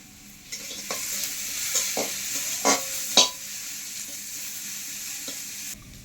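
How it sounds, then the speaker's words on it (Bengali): Spices frying in a pan over very low heat for a mustard bhola fish curry: a steady soft sizzle with a few sharper stirring scrapes and clinks near the middle, no voices. "খুব কম আঁচে মশলা ভাজলে মশলা খুব ভালোভাবে ভাজা হয়ে যায়, পুড়েও যায় না"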